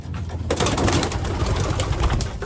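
Racing pigeons coo in a loft over a dense flutter of wings and shuffling, a steady, close, busy bed of bird noise throughout.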